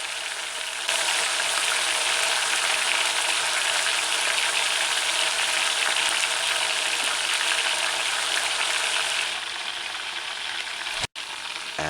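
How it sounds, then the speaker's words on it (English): Chicken pieces fry in hot oil, giving a loud, steady sizzle that holds for about ten seconds, eases slightly near the end, and is broken by a brief sharp cutoff. "Once you add the pieces to the heating oil, you gotta allow it to stay before you stir it."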